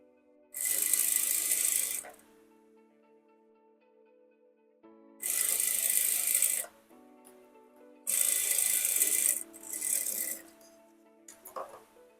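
A stitching machine sewing fabric in a tailoring training class, sounding as three loud, close runs of rapid mechanical clatter with quiet pauses between them, then a shorter, softer burst and a few faint clicks.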